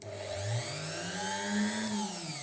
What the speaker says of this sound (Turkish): Şöyle bu matkap nasıl?